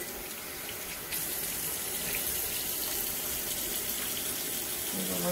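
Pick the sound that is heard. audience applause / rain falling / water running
water running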